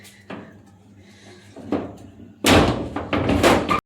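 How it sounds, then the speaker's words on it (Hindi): A door being shut in a home on a misty winter morning, with a few wooden thumps and knocks that build to a loud slam and rattling bangs near the end. "ये दरवाजा बंद रखा करूँ मैं।"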